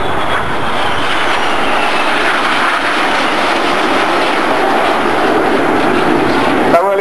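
Roaring RAF Red Arrows jets sweep by overhead at an air festival over water in a long, loud, continuous rumble, with a faint commentator voice beneath.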